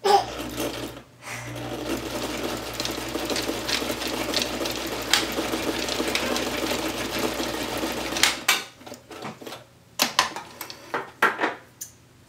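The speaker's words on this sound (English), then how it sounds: "now we're going to finish sewing down this seam" A sewing machine stitches down a seam on a drawstring backpack, running steadily and loud for about eight seconds, then stopping into short bursts of stitching and handling clatter, with no talk.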